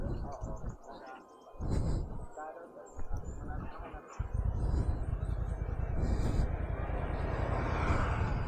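A DJI drone flies in strong wind on a road trip through Northern Eastern Samar, Philippines. A loud, steady roar of wind and motor builds and fills the clip, with someone talking over it.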